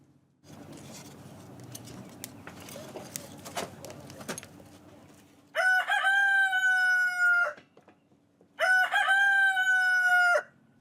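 Rustling and scratching movement from chickens on a boat, then a rooster crows twice, loud and drawn out, with a low steady hum underneath.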